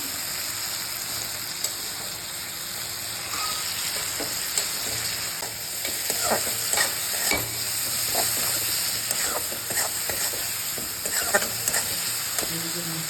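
Spices sizzling and frying in a pan during home cooking, with a steady crackling hiss and repeated scraping stirs close by, no talk.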